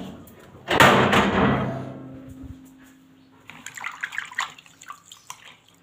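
Water splashes and rushes over a steel scrubbing wire being washed, a loud burst early on followed by softer, scattered rinsing and scrubbing noises.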